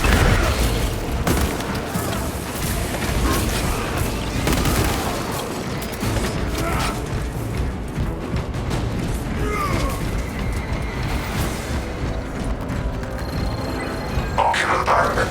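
Sustained covering gunfire in Warhammer 40,000: Space Marine 2, heavy bolter-style bursts and booming impacts rolling continuously at close range, loud and dense, with voices speaking over the battle.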